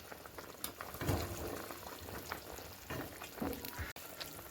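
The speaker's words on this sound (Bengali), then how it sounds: "মাংসের তরকারি তো ফুটে উঠেছে" Chicken curry simmering in a pot, soft bubbling and occasional stirring sounds heard close but fairly quiet, with no talking.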